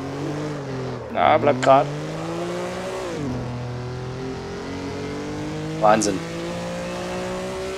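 A Maserati 250F racing car at Imola in Assetto Corsa, its engine droning steadily and then dropping in pitch as it shifts down, with tire squeals and someone talking over it.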